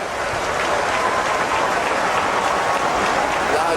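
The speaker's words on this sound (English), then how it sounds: "Loud applause for Joyce Banda," Loud sustained audience applause at Nelson Mandela's state funeral, a dense wash of many hands clapping from a large crowd, steady and unbroken throughout with no single voice rising above it.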